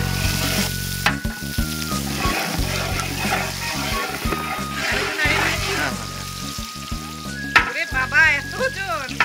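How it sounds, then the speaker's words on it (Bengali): Chopped onion fries in hot oil while being stirred, a strong steady sizzle with scraping strokes, mostly under music and talking voices. "গরম তেলের সাথে পেঁয়াজ কুচিরই প্রথম মিতালি। নাড়া দিতে হবে না?"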